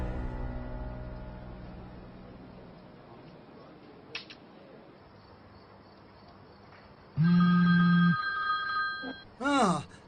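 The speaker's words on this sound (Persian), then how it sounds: "سیلین زنگ میزند" A telephone rings twice with loud electronic trills, the first long and steady and the second shorter, over a background of chirping insects and faint room noise.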